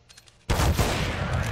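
CS:GO in-game gunfire, a sudden burst of loud rapid shots that starts after a quiet moment and keeps going to the end of the short clip.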